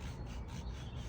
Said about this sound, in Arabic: معانا ديت اللي هي صنفرة، بس تكون ناعمة ما تكونش خشنة.